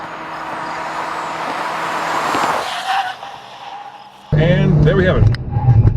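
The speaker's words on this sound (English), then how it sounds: "Whoa, those brakes just grabbed." A 2014 Chevy Volt pushed hard down a track straightaway, then braking: steady road and tire roar that fades as it slows, followed by a person talking loudly over the cabin noise.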